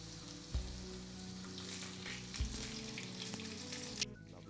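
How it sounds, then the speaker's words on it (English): Gluten-free chicken deep-fries in oil with a soft, steady bubbling sizzle, broken by a few dull thumps, and it cuts off abruptly near the end. There is no speech. "you're gonna fry it until you get that nice lovely goldish color look"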